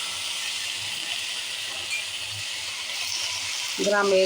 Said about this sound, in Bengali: পেঁয়াজ দেখুন লাল লাল হয়ে যাওয়ার পরে দিয়ে দিলাম শাকগুলো